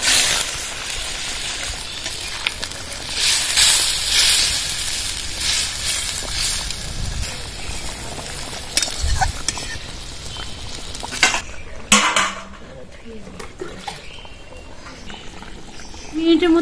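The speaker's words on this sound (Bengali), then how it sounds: "ভেজে রাখা মাছগুলো ঝোলে দিয়ে দেবো।" Fried rohu fish pieces go into a simmering spiced curry with cauliflower and potato, bringing a steady loud sizzle and bubbling with occasional stirring scrapes and clinks of a utensil against the pan.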